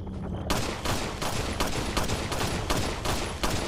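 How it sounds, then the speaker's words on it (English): Rapid bursts of gunfire from shooting an enemy in the video game Resident Evil 4, loud repeated shots in a steady rhythm filling the whole stretch, with no talk over them. "Okay, let's start shooting it."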